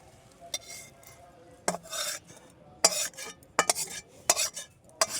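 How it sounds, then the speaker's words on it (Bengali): Cooked sago being strained through a sieve, heard as a series of short scraping, rasping strokes of a utensil against metal mesh, with quiet gaps between the bursts. "ছাঁকনিতে ভালোভাবে ছেঁকে নেব।"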